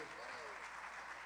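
A concert audience at an award festival claps for a musician. The applause is a steady, dense wash of many hands that fills the whole brief moment without letting up.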